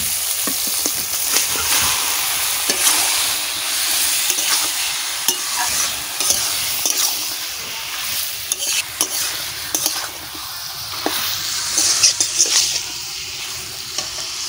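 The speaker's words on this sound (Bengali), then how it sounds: "মশলা ভাজা হয়ে গেছে, লাল লাল করে মশলা ভেজে নিচ্ছি। এবারে মাংসটা দিয়ে দেবো।" Spices frying for a Kadaknath chicken curry sizzle steadily in a pan while a spoon scrapes and stirs in frequent irregular strokes, close and fairly loud, with no talk.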